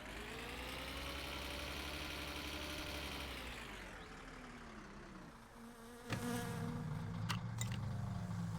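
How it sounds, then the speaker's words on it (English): A wasp buzzing in a video game, a loud steady drone that slowly lowers in pitch midway, then a sharper burst and continuing buzz, with no talk. "that isn't just the sound of a wasp"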